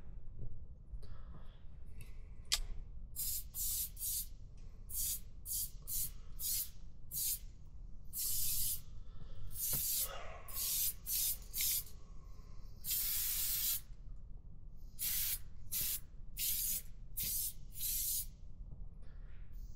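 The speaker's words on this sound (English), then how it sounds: "We want to make sure to spray this so it doesn't get stuck over the winter." Repeated short bursts of aerosol spray on the throttle cable of a 2019 Yamaha AR190 boat, hissing close up in quick irregular pulses, with mechanical rustling in between.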